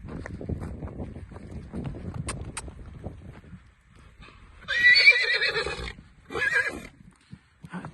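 A horse gives a loud, shaky whinny, then a shorter second one, after quieter rustling and a few light knocks.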